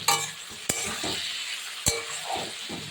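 Green tomato curry with turmeric and chili powder being stirred in a pan, a steady close sizzle broken by a few sharp utensil clinks against the pot.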